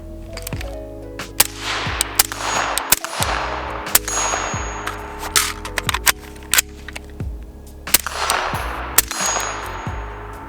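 Rifle fired in a rapid string during a magazine drill, sharp loud reports repeating at uneven intervals with a short pause partway through, ringing metallic clangs between shots.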